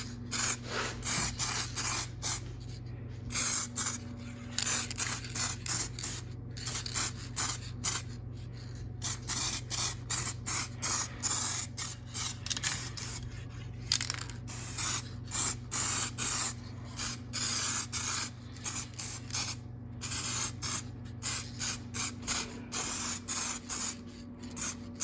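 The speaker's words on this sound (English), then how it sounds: "I'm only doing the 1K clear on these." 1K clear coat sprayed onto 1989 Kawasaki Ninja ZX7 brake parts from an aerosol can, in repeated short hissing bursts with brief gaps, close and loud, no talk.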